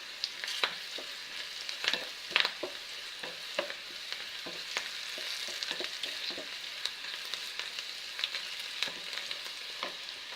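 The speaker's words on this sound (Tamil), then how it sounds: "முந்திரி பருப்பு, பூண்டு, வெங்காயம் இது மட்டும்தான் இதில் போட்டிருக்கிறேன். நல்லா வணக்கிட்டுருக்குறேன்." Cashews, garlic and onion sautéing in a pan while being browned for capsicum rice: a steady sizzle of frying with frequent scrapes and clicks of a spoon stirring, close and alone.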